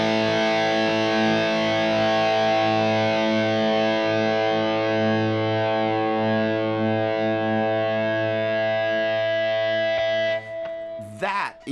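A guitar amplifier driven into heavy preamp distortion holds one thick, buzzing chord at steady loudness for about ten seconds, then cuts off abruptly with a brief crackle.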